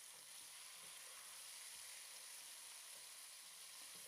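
Boiled chicken pieces frying with garlic in a pan give a steady, soft, even sizzle with a faint hiss, heard close and continuous without any talking.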